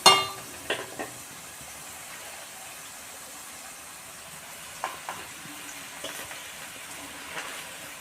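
Gongura leaves drop into a pan of frying green chillies, giving a soft, steady sizzle with a clatter at the start and occasional light stirring knocks, close and quiet.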